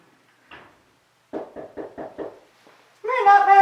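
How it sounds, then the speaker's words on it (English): A run of five quick knocks at a front door, fairly close and crisp, following a brief faint tap, with a burst of excited barking right after. "I'm waiting for him to knock at the door."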